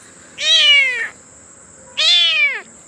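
A cat cries out over a dead kitten with two long, loud, drawn-out meows, each about three-quarters of a second, separated by a pause of about a second, close to the microphone with no talking.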